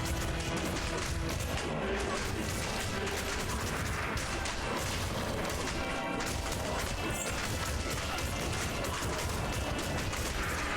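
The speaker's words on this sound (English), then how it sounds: "I'm going to do some corpse explosion just to make sure that we're clearing the way here" Corpse explosion spells in Diablo 2: Resurrected set off dense, continuous crashes and blasts amid clattering combat effects, a steady loud barrage of overlapping impacts throughout.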